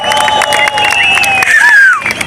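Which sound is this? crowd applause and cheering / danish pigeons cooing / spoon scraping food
crowd applause and cheering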